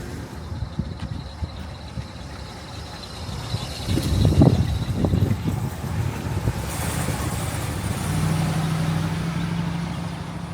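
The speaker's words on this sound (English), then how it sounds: "Let's take this Continental convertible for a ride." A 1962 Lincoln Continental convertible drives along with a steady engine rumble, swelling louder around the middle as it pulls away, then settling into a smooth cruising hum with wind noise.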